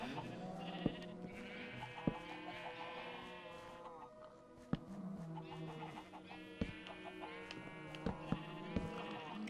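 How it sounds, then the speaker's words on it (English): Minecraft farm animals fill the scene with repeated sheep bleats and clucking chickens, overlapping and fairly loud, with occasional sharp clicks throughout. "Sorry about all the cows and thingies noises. It's a bit loud."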